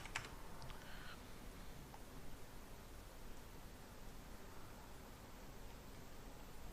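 Faint, sparse clicks of typing on a computer keyboard come in a short burst at the start, then give way to a quiet, steady room hiss.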